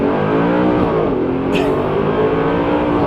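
Close, loud engine of an Audi R8 with a V8 and automatic gearbox, a steady rich drone with layered harmonics and a slight pitch rise while driving, no talking.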